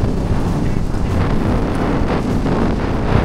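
Strong wind roars and buffets the microphone, a loud continuous rush with low rumble throughout.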